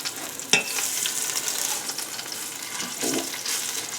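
Eye of round beef browns in a hot Instant Pot, a steady fizzing sizzle with a couple of sharp pops and spits, close and continuous without talk.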